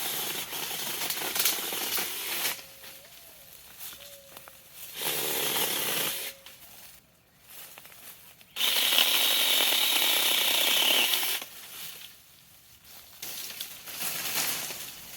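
A small 6-inch Zeeksaw chainsaw cuts tangled tree limbs in several bursts of buzzing and chattering, each a few seconds long, separated by quieter gaps.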